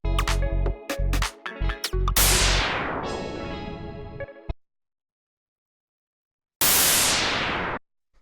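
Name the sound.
low-pass filtered white noise effect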